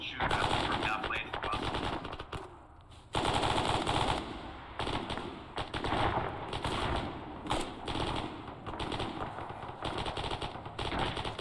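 Sustained automatic gunfire and rifle shots crack in rapid bursts at a squad during an Arma 3 military game battle, loud and continuous across the clip with brief gaps between volleys.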